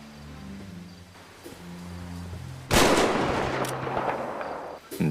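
A single sharp, loud gunshot rings out in a GTA V cutscene, cutting abruptly through quiet background music and leaving a reverberant tail.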